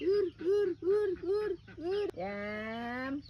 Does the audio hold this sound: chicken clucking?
yes